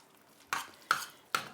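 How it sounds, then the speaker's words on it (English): Eggs are mixed into hot pastry dough in a bowl, giving three quick separate stirring knocks against the vessel, close and fairly quiet. "And mix it to combine it entirely before you add the next egg."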